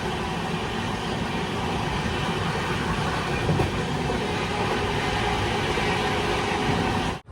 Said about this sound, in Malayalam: ട്രെയിൻ ഒരു നദി ക്രോസ് ചെയ്യുകയാണ്